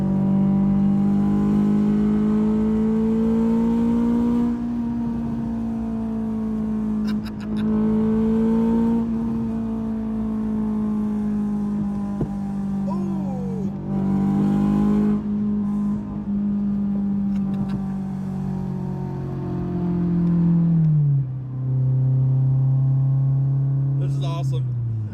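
Honda S2000 AP1 sports car engine pulling hard under acceleration, a steady loud drone that climbs and holds, with a shift-like drop in pitch near the end and someone talking over it.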